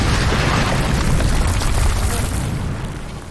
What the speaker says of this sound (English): the massive explosion